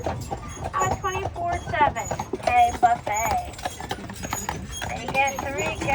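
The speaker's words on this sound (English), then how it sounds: "So Saul and Ted, just like the rest of the other carriage tour horses, have a 24/7 hay buffet." Carriage tour horse hooves clip-clop in a steady rhythm on Mackinac Island, running beneath continuous talking.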